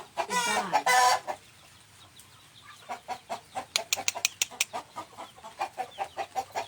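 A rooster crows loudly up close, then hens cluck in a quick, steady series of short calls, several birds nearby in a pen in an Isan village, Thailand.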